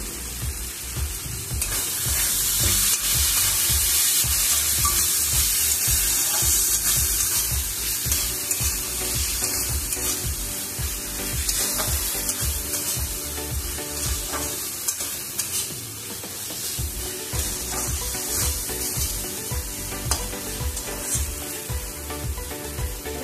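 Potatoes are sautéed with spices in a hot pan for a potato and pointed gourd curry, giving a loud, continuous sizzle broken by repeated scraping strokes of stirring.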